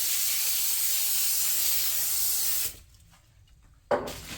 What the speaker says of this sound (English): I want to also spray the parchment paper with some nonstick spray.